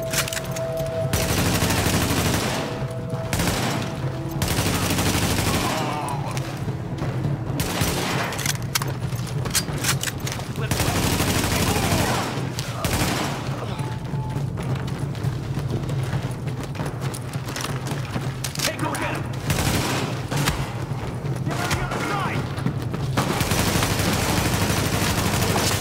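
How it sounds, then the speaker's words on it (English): Sustained gunfire in The Division video game, a rooftop gunner pinning down an escort party, with dense rapid bursts and booms filling the whole stretch loudly, brief pauses between volleys, no talk. "The escort party's taking heavy fire from the roof."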